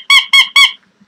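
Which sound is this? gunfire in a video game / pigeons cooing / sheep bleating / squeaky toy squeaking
squeaky toy squeaking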